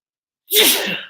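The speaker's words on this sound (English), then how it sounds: "Excuse me, I was going to sneeze." A single sharp sneeze bursts out after a moment of silence, loud and close, with a breathy hiss trailing off.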